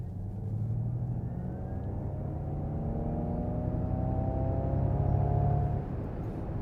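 A 2023 Ford Mustang Mach-E AWD Extended Range electric car pulls away hard from a stop, heard from inside as a steady road rumble with faint motor whine tones climbing gradually in pitch, continuous and moderately loud, with no talking.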